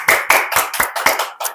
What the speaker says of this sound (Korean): 찬양과 감사와 영광의 박수를 한번 올려드리면 좋겠습니다